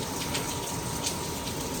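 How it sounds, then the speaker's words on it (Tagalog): Heavy rain falling in Iloilo, Philippines, a steady, dense, broadband hiss that holds evenly for the whole stretch with no voices over it. "malakas yung ulan"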